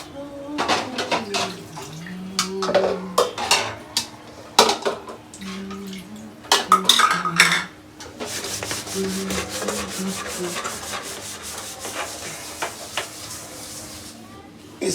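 Dishes and pots are washed after cooking khichuri. Scrubbing rubs and clinks of utensils come in uneven bursts, followed by a longer stretch of steady scrubbing or running water, with a voice heard in places.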